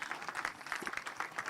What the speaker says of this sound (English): Can we please kindly give him a huge round of applause as he makes his way onto the podium?